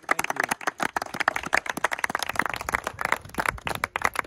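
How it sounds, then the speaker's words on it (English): An audience at a community service day event claps steadily, with dense, overlapping sharp hand claps running throughout and no talking. "let's get a clap going"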